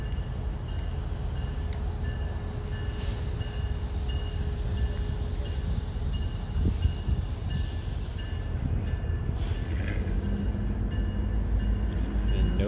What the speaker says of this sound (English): train's coming back for the third time, one with remote control